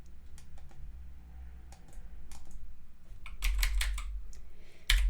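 Keys clatter on a computer keyboard in scattered short bursts, close and moderately loud, with brief pauses between the runs of typing.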